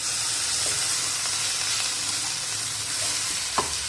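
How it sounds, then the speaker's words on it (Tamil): Cleaned dried anchovies are stirred and sautéed in a pan, giving a steady loud sizzle and hiss with a couple of soft scraping stir sounds. "லேசாக அப்படி வதக்கி கொடுத்து இதோட நம்ம க்ளீன் பண்ணி வச்சிருக்கிற நெத்திலி கருவாடை இதோட போட்டுருவோம்"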